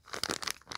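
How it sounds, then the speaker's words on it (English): Packaging crinkles and tears open in a quick burst of bright, papery rustles, close and fairly loud, with no talking. "Crinkling."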